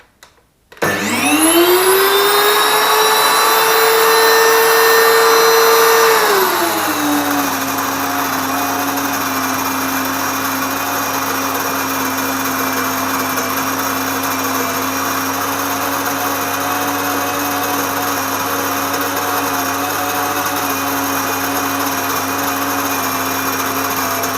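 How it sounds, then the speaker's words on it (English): An electric grain mill whirs up to a high-pitched roar, then settles into a lower, steady grinding hum that runs loud and unbroken. "you have to switch the mill on before you put the grain in"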